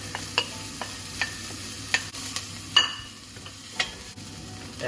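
Onions and garlic frying in a pan for kare-kare, a soft background sizzle with a series of separate clinks and scrapes as they are stirred, no talking.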